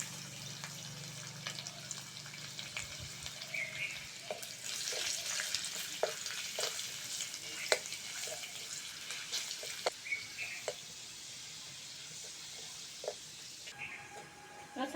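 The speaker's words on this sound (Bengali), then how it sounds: "রসুনটা ভালো করে ভেজে নিয়েছি" Chopped garlic frying in hot oil gives a steady, soft sizzle, with occasional stirring clicks and scrapes against the pan throughout.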